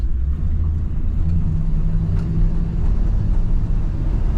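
A 1972 Ford F-100 Sport Custom pickup cruises down the road, its engine a steady low rumble with constant road and cabin noise, continuous and close, no voices.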